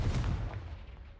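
A single Confringo blasting spell bursts in the Hogwarts Legacy video game, a short, heavy explosive thump that rings out and fades within about a second.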